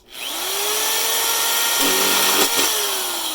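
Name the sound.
drilling a hole in plastic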